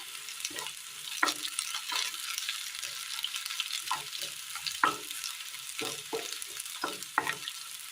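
Onions sautéing in a pan for a curry, a soft steady sizzle beneath repeated scraping and tapping of a spoon stirring them, close and unhurried with no voices.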